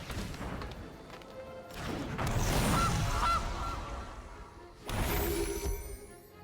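Goose honks from the Magic the Gathering Arena card game, two short honking calls sounding in the middle over a busy digital game soundscape with thumps and swells.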